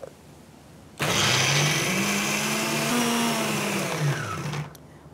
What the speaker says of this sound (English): So I'm putting them into the grinding section of my blender.